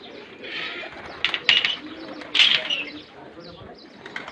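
Pigeons kept by a fancier coo and flutter close by with soft, repeated calls. Sharper chirps and wing flaps rise above a steady murmur of background noise.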